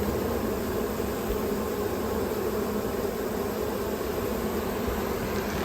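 Honeybees at a queenless hive fanning their wings at the entrance, a dense continuous hum and buzz held close and loud throughout, with no voices.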